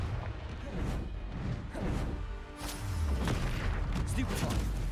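A Confringo blasting spell in a wizard video game erupts as a broad, rumbling burst of explosive noise, with crackling hits and a second heavy blast about midway, dense and fairly loud throughout.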